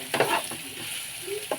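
Potatoes frying in a pan are stirred in short bursts of scraping and rustling over a soft sizzle, with quieter gaps between strokes, close and fairly faint.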